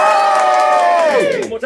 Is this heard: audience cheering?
yes